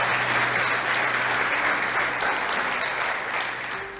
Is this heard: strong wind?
no